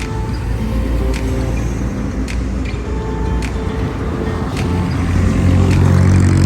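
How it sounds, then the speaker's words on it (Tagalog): Trucks pass along a road at night, their heavy engines making a continuous low rumble that swells slightly toward the end, with a few faint sharp clicks over the traffic drone. "Daming truck guys."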